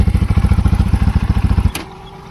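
A motorcycle engine chugs loudly and close in a steady rapid rhythm of firing pulses, then cuts off abruptly near the end with a short clack, leaving a low hum.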